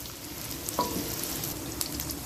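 Sliced onions frying gently in hot oil for a Mughlai egg curry, a soft continuous sizzle with a few faint crackles and pops, close by and steady throughout.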